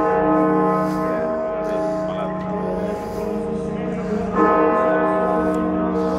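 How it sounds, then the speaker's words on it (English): The ten-ton bell Little John striking the hour in Nottingham city centre, a deep sustained tone ringing steadily throughout and struck again partway through, heard outdoors with street background. "It is a 10-ton bell that chimes the hour here in Nottingham."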